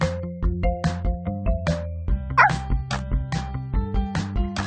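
Puppies barking in a Dora the Explorer video game, short yips and bow-wows set over a bright tonal musical backing, loud and close throughout.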